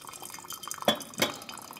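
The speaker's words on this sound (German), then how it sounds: "Mit heißem Wasser nimmt Sven dem Papierfilter den unerwünschten Eigengeschmack und wärmt so auch die Kanne vor." Hot water poured over a paper coffee filter to rinse it and warm the pot, giving soft trickling drips with two brief splashy bursts, quiet and close.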